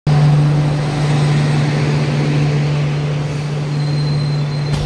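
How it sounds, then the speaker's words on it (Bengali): Train 12883, the Rupasi Bangla Superfast Express, arrives at platform 2 with a steady low engine hum and a constant broadband rumble, and no one talks. "ট্রেন নাম্বার 12883 রূপসী বাংলা সুপারফাস্ট এক্সপ্রেস 2 নম্বর প্ল্যাটফর্মে আসছে"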